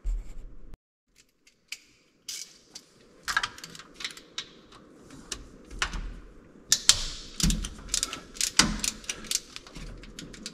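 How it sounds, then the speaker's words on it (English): A camshaft is turned inside an LS 5.3 engine block to seat the lifters during a turbo build cam swap. Close, irregular metallic clicks and ticks come in bursts after a brief quiet start, and no one speaks. "And then we're going to spin the cam to set the lifters up"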